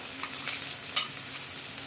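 Onion with ginger-garlic paste frying and being stirred in a pan, a steady broadband sizzle throughout with one brief sharper spatter near the middle, close and moderately loud with no voices.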